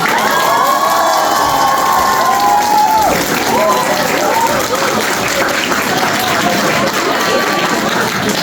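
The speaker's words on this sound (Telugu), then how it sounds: "వీళ్ళ అరుపులు వినండి ఒకసారి" A university audience in South Korea erupts after a dance to Telugu songs: loud, sustained cheering, high-pitched shouts and applause from a close crowd, continuous from start to finish.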